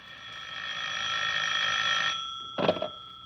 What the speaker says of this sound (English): As I came up the stairs, I heard my phone ringing.